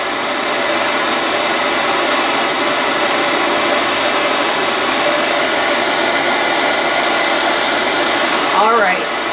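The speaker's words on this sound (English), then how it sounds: "Turn the gas up just a tad." A gas torch flame roars with a loud, steady, broadband hiss that runs unbroken from start to finish, with a brief wavering tone near the end.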